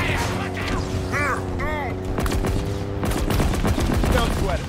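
Video game gunfire crackles steadily in bursts through a busy battle, with voices calling out over the shooting.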